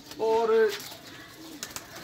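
A pigeon of a breeder's golden fancy strain gives a short, soft coo close by, followed by faint rustles, while someone speaks briefly.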